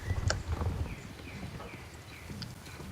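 Rhythmic video game horse hooves clip-clopping over a low rumble, a handful of steady steps that fade slightly toward the end, with no talking.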